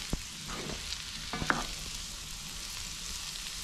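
Moose sausage, potatoes, onions, green and red peppers and green onions frying together at a log cabin during a snowstorm, a soft continuous sizzle with a few faint utensil taps, no voices.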